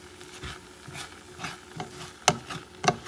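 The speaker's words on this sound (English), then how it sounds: "You don't go crazy, just give it a little stir." A spoon stirs shrimp and basmati rice in a pot with a series of scraping, shuffling strokes, soft sizzling underneath and two sharper clinks of metal against the pot near the end.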